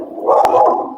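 A dog indoors gives one loud, drawn-out bark right up close, lasting about a second with nothing else around it.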